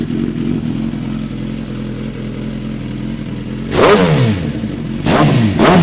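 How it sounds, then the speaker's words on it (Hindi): Off-roader with a modified exhaust idling in a steady low rumble, then revved hard twice in sharp, loud bursts close by. "करना स्टार्ट इसको भाई फिर। एग्जॉस्ट की साउंड भी बिल्कुल अलग है।"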